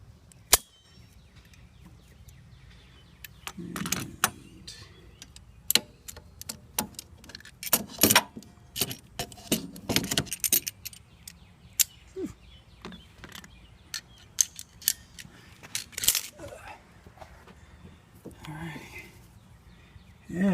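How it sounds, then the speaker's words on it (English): Metal hose clamps being released from heater hoses on a 1991 Chevy S10: scattered sharp clicks, snaps and light metallic rattles at close range, irregularly spaced over a low background hum, with a voice faintly present. "I'm going to unclamp my hoses now."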